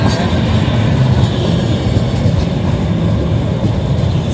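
Loud, steady rumble and rattle from inside a moving train, continuous throughout with no clear talk.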